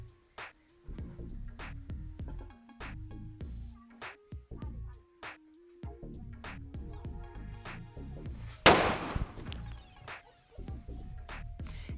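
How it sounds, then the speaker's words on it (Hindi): A large Diwali firecracker bomb, lit with a homemade electric lighter, goes off in one sharp, loud bang with a short crackling tail, heard over steady rhythmic music playing throughout. "और अब हम इस बड़े वाले बम को चला करके देखते हैं।"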